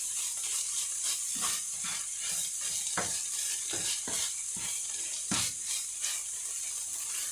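Spiced minced meat cooks in a pan with a steady broadband sizzle, broken by a few sharp scraping stirs of a utensil; close and continuous, no voices.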